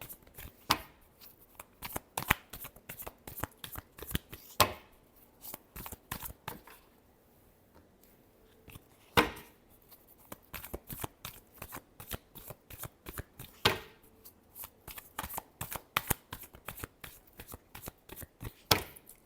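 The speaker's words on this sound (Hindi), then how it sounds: "Last shuffle." Tarot cards being shuffled by hand, rapid bursts of crisp riffling and flicking snaps repeating close-up throughout, with a brief pause midway and no talk over it.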